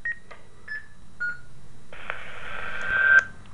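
Button tones from a Zartek multi-user wireless intercom handset: a few short beeps at first, then a longer, steadier electronic tone, clear and close in a quiet room.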